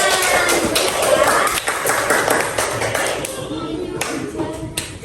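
Fourth-grade schoolchildren clap together in a primary school classroom, a busy burst of many small hands that thins toward the end, with scattered taps and thumps and some chatter.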